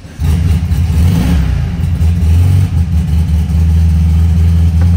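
The 1776cc engine of a 1974 VW Beetle catches on a cold start and settles into a loud, close, low rumbling idle with slight rises in revs, steady throughout without any voices.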